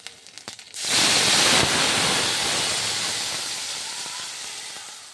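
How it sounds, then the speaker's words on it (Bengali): Dried red chillies and whole cumin dropped into hot mustard oil: after a few small clicks, a loud, close sizzling hiss bursts in and slowly fades. No talk. "সর্ষের তেলে শুকনো লঙ্কা আর গোটা জিরে ফোড়ন দিয়ে দিলাম"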